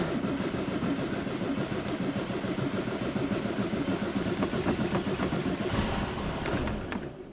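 The engine of an air-cooled VW Gol has just started and runs steadily, a close, continuous mid-pitched chugging idle with no talking.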